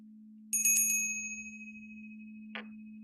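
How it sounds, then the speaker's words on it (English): An original copper bell is struck once and rings out with a bright, shimmering tone that decays slowly over a low steady hum, followed by a short, fainter tap near the end. "The original copper bell."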